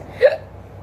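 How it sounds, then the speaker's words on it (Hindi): A single short hiccup from a woman, sharp and close, heard alone with no talk around it. "सॉरी, हिचकी आ गई।"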